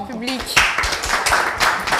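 Audience clapping at a French-language talk show, a brief burst of applause swelling after a short spoken moment and continuing steadily.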